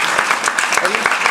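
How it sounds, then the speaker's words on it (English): Seminar audience applauding in honour of Fredrik at an agroecology discussion, loud close clapping with sharp individual claps standing out over a dense wash, while a voice is faintly audible underneath. "So a special applause to him also."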